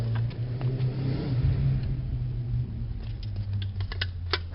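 A voice imitates a motorcycle engine, a steady low buzzing drone with pitch wobbles and a few short clicks, close and fairly quiet, with no talking.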